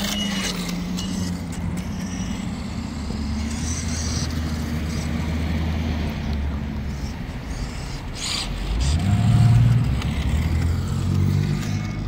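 Losi Mini 8T RC truck with its body on, rolling slowly along a road, giving a continuous low motor whine and rumble with faint rattles that swells briefly near the end.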